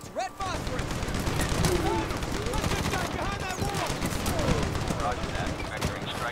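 Gunfire crackles through a Medal of Honor battle, with rapid bursts and repeated shots forming a dense, continuous barrage while players talk over it.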